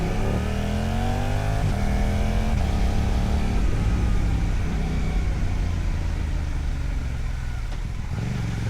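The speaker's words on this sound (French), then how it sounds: "il y a une voiture qui s'est mise en route" A nearby car pulls away while heard from a Suzuki GSX-8R motorcycle carrying a rider and passenger, the engine note rising and falling steadily over continuous wind and bike noise.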